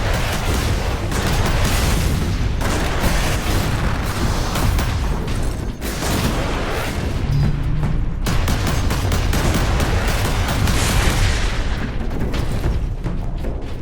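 Guns firing in Space Marine Master Crafted Edition, dense continuous bursts of loud gunfire and booming blasts with brief gaps, close and relentless, no talking.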